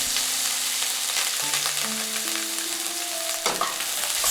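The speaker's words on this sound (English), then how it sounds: "When the oil is hot, put the ginger and the garlic." Ginger and garlic frying in hot oil in a pan over high heat, a loud continuous sizzle close by with a brief stir-scrape flare near the end.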